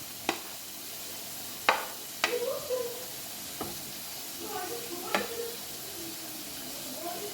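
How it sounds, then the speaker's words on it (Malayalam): Garlic stirred into chicken frying in a pan, with a steady sizzle under a handful of sharp utensil scrapes and knocks spaced a second or two apart. "ഇനി നമുക്ക് വെളുത്തുള്ളി ഇടാം. അത് മിക്സ് ചെയ്ത് അടുത്ത സവാള ഇടാം."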